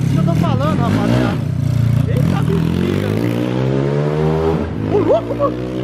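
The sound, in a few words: motorcycle with 190 cc 22 hp kit revving on gasoline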